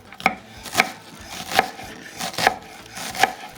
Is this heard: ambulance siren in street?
no